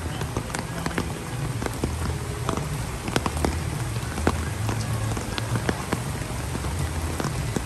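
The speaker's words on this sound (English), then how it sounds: "I have raindrops on me, Firefly" Steady rain falls outdoors on a November day at Animal Kingdom, a dense continuous patter with scattered louder drops hitting surfaces nearby, fairly loud throughout.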